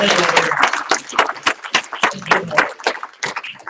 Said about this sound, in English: Can we just give it up for them for all their work today?